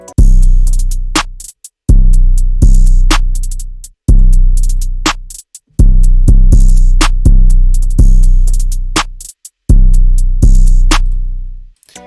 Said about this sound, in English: And after that we are adding some open hats.